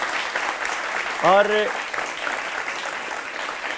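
Audience applause at a Ram bhajan gathering tied to the Ayodhya Ram Mandir: steady, dense clapping throughout, with a single short spoken word cutting through briefly.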